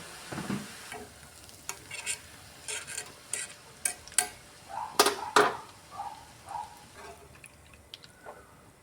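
Omapodi dough is pressed into hot oil and fries with a bubbling sizzle, broken by sharp stirring and scraping clicks at an uneven rhythm, close and fairly loud.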